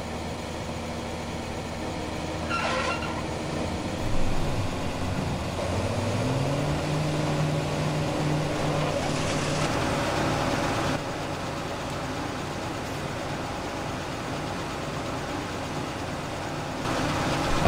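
A tractor engine in the video game Farming Simulator 2015 drones steadily, with a tone that rises as it revs partway through, under faint mechanical hum.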